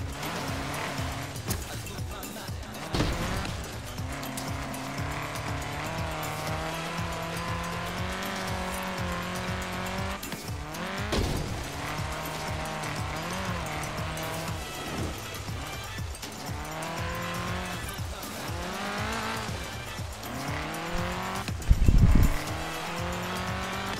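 A race car in Forza Horizon 3 roars continuously, its engine note rising and falling through gear changes, with tires squealing and skidding across a loud, unbroken stretch.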